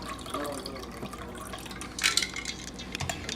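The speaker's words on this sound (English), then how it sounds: "And then pour into our fancy margarita cup." Margarita poured from a bottle into a fancy margarita cup, a close liquid trickle and splash with a brief brighter gurgle midway, no talking.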